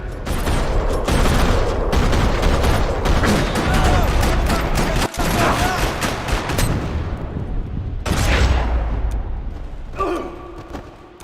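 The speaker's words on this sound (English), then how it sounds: "Another parking lot rattling with gunfire." Sustained gunfire rattles across a parking lot in the video game Max Payne 3, dense overlapping bursts with heavy booms, a brief break near the middle, then more shooting before the clip thins out at the end.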